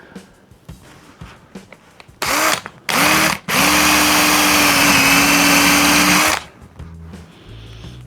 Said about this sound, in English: So the next thing to do is do the trimming and then get it on the lathe and get turning.